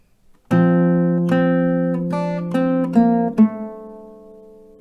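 Acoustic guitar picking out the melody of a song, a slow run of single plucked notes that ring on and overlap, played alone and close.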